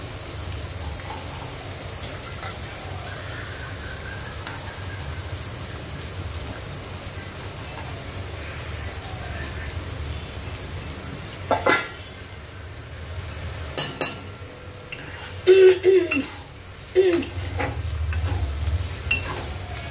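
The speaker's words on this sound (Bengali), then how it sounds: "ভালো করে ভেজে নেব গাজরগুলো" Carrots fry gently in ghee with a steady low hiss, broken later by a few louder clanks and scrapes of a spoon against the pan.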